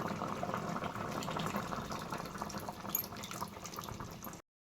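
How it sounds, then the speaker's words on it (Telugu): Fish curry with tamarind boiling in a pot, a steady bubbling simmer, close and fairly faint, continuous until it cuts off abruptly near the end. "కూర అయితే ఉడుకుతుంది."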